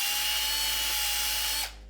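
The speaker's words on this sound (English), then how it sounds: "I can drill these out." A power drill with a 5/16 drill bit runs at a steady high whine while drilling out an arrow fitting, then cuts off abruptly near the end, close and alone.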